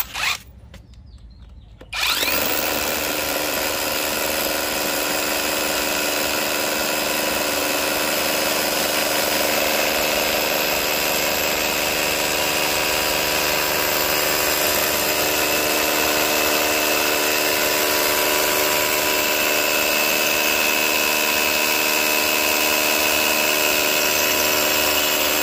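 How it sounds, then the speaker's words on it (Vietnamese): A Dekton RH-2603 cordless hammer drill fitted with a 12 mm bit starts up after a brief pause and bores into concrete, a loud, steady, whining drone that runs unbroken for over twenty seconds. "Bây giờ em sẽ trực tiếp test mũi khoan 12 ly trên máy khoan bê tông của Dicton 2603 các bác nhá."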